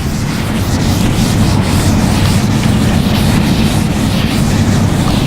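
An eraser rubbed across a lecture board, a steady loud scrubbing that fills the whole stretch without pause and with no voices.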